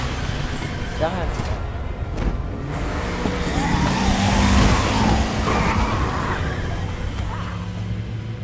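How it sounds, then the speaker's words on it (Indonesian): A police car in the 2019 Resident Evil 2 game drives off and skids, with engine roar and tire squeal rising over a steady din of game sound while voices talk over it. "Cabut dia pakai mobil polisi yang digigit tadi."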